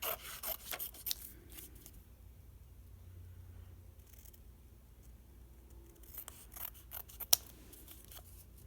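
Scissors snipping around craft paper, a close, quiet run of small cuts and rustles, busier at the start and end with a sharp click near the end.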